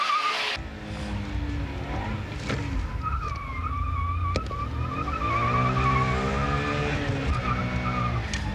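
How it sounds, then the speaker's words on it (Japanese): A 660cc Daihatsu Mira kei car brakes hard into a full turn on a test course, its rear anti-lock brakes working as the tires squeal and skid in long wavering shrieks over the engine, loud and close. "フルターンへのブレーキでリアのアンチロックが効いているのがよくわかる"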